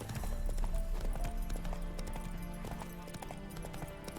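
Roach the horse trots along in The Witcher 3, hooves clip-clopping in a steady rhythm close by for a few seconds over a low game soundtrack and ambient bed.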